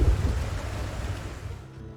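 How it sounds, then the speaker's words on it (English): Rain and thunder from the survival game Project Zomboid, a deep rolling rumble with a broad wash of rain noise, loudest at the start and slowly fading over two seconds. "It is still raining outside."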